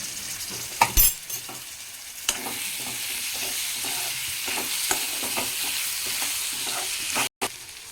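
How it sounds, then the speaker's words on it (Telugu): Dried fish are frying in oil with ginger paste, producing a steady close sizzle with occasional louder stirring scrapes and a brief cut near the end; no one speaks. "అల్లం పేస్ట్ ఫ్రై చేసుకున్నాక చేపలు అయితే వేసేస్తున్నాం"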